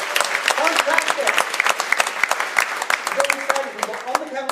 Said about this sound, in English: Give him a round of applause to go back to the audience